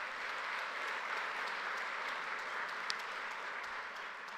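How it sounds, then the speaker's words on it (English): Audience applause for the teachers at a graduation ceremony: a steady, dense wash of many hands clapping, fairly soft and distant, holding evenly for several seconds with no voices. "Can we give our teachers a big round of applause as well?"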